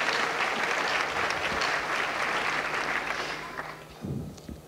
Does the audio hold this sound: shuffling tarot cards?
no